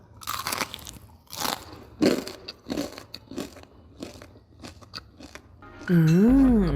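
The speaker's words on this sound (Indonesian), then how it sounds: "Teksturnya itu kriuk di luar dan moist di dalam" Homemade KFC-style fried chicken, coated by shaking in a jar, crackles as it is bitten: a series of loud, close crunches and chews, then a voice hums appreciatively at the end.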